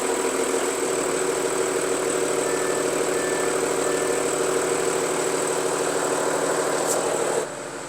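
A German diesel car with a worn flywheel idles steadily and loudly up close, a constant rumbling drone with a faint rattling texture that drops slightly in level just before the end; no one speaks.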